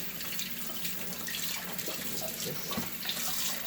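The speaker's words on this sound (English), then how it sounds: "let me rinse my hands off" Water runs steadily from a kitchen tap as buttery hands are rinsed beneath it, a continuous close splashing hiss with small shifts in the flow and no talking.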